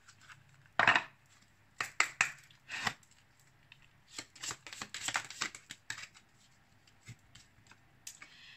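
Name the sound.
shuffling oracle cards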